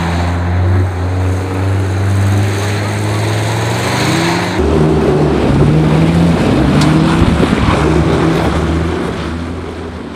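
An Opel Omega drives on ice in a pushing-car race, its engine droning steadily and close with a rising, harder-revving roar midway as it accelerates, a voice faintly present underneath.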